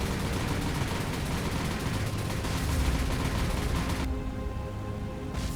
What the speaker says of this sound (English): so a lot of explosions there.